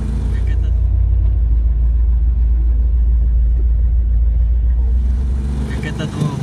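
A 1965 hump-backed ZAZ-965 Zaporozhets drives through evening Kyiv at about 87 km/h, its engine a loud, steady, close low drone that holds evenly throughout, heard from inside the car.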